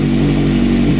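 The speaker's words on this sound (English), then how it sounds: "Engine sounds great." A Kawasaki ZX6R sport bike engine idles close by in a steady, loud, low hum, running without its radiator fan during a coolant change.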